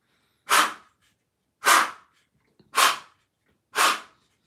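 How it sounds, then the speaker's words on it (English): A dog sneezes four times in a row, each one a sharp, breathy burst followed by a pause of about a second. The sneezes are close and loud, with near silence between them. "He's just sneezing all over."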